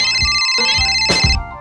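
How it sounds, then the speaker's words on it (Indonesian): A phone ringtone plays loudly and close, a bright repeating electronic melody with brief rhythmic pulses, cutting off after about a second and a half. "Iku telepon teko sapa sih"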